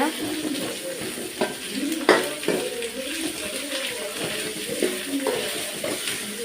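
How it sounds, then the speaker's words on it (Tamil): Small shallots and large onions sautéing in a pan for a chicken curry, a steady close sizzle with repeated scrapes and knocks of a spoon stirring through them. "சின்ன வெங்காயம் ஆட் பண்ணிக்கலாம். பெரிய வெங்காயமும் போட்டிருக்கேன். இதை நல்லா வதக்குங்க."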